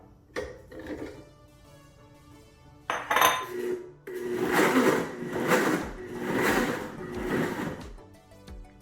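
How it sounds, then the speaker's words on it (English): A blender blending tomatoes and jalapenos whirs in several surging bursts, starting and stopping with short pauses, loud and close, with some clattering before it starts. "Now it's just a matter of putting it in the blender and turning it on."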